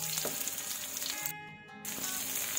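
Chopped onions sizzling in a hot pan for spicy adobong pusit, a steady close crackling fry with a brief dip in the middle.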